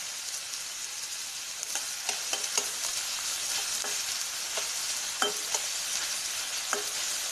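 Onions frying with a little salt in a pan give a steady, bright sizzle throughout, broken by light clicks and taps from stirring, with no one speaking.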